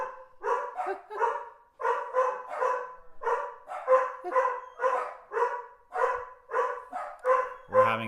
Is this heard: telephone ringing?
no